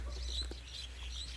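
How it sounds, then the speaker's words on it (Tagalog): A flock of birds chirps busily around a backyard vegetable garden, many small tweets overlapping at moderate distance over steady low background rumble, with no talking. "ang daming ibon"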